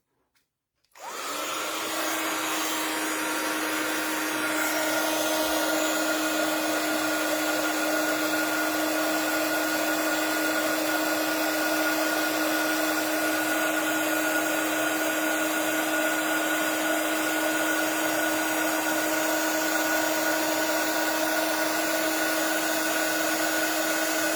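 A heat embossing tool used for a sliding gift pouch craft switches on and blows hot air in a steady, loud whirring hiss that keeps going without a break for over twenty seconds, with no talk over it.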